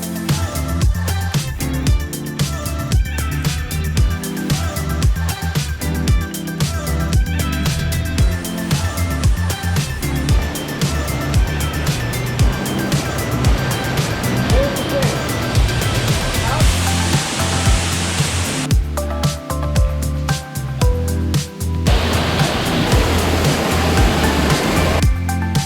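Loud rushing water of a waterfall pool on Maui, a dense continuous roar that runs throughout, with a sharper splash-like burst near the end.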